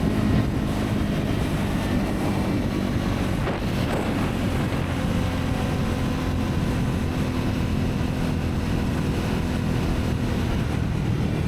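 A Triumph Scrambler 400X motorcycle cruises at 70 mph around 6,000 RPM, a steady engine drone buried under heavy, constant wind roar.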